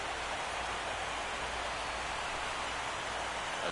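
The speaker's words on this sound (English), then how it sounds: "Rain looks like it picked up a little bit." Steady rain falls in the baseball video game MLB The Show 16, a constant broadband hiss with no breaks, heard alone with no talk over it.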